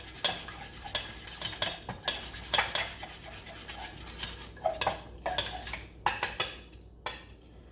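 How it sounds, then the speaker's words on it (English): Herb butter stirred and mixed by hand in a bowl, with repeated scraping and clinking strokes of a utensil against the bowl in an uneven rhythm, close and fairly loud, with no voices. "And just mixing it with this, and then just mix it up"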